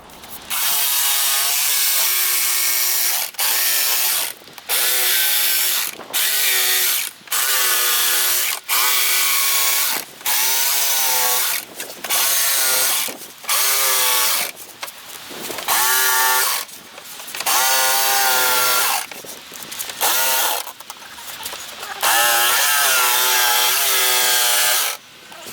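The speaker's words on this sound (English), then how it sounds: "So what we've got to do now is to cut that bit out the middle next," A power tool cuts the middle section out of a model railway tunnel, whining loudly and steadily in repeated bursts of a few seconds each with short pauses between them, with no talking.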